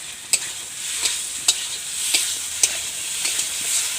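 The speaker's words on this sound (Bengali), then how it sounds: "কাশ্মীরি লঙ্কার গুঁড়ো দিয়ে এখন ভালোভাবে নাড়াচাড়া করে নেব।" Masala with Kashmiri chili powder and turmeric sizzles in a pan for paneer masala, a steady hiss punctuated by several sharp spoon clicks and scrapes against the pan, close and free of speech.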